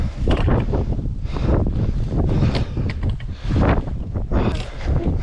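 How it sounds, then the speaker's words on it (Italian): Strong wind on a mountain slope of Monte Sumbra buffets the microphone in loud, rumbling gusts that rise and fall repeatedly, with no talk. "Sto versante di qua butta di vento a bestia."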